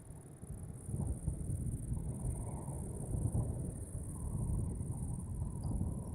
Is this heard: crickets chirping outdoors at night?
yes